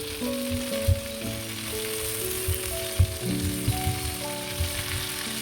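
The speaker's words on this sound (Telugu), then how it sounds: "మళ్ళీ తిప్పుకుంటూ కాల్చుతుండాలి." Chicken drumsticks coated in garlic butter pan-fry on a tawa for malai tangdi, a continuous crackling sizzle broken by occasional knocks of turning, with soft music underneath.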